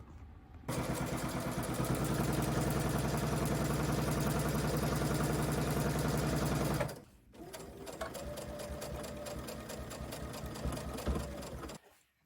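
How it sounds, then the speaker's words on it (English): A Babylock Aerial embroidery machine stitches an in-the-hoop wallet in loud, rapid, even mechanical chatter, pausing briefly midway before a second run that ends abruptly. "Now I'll change my foot to a sewing foot, and I'll be ready to sew."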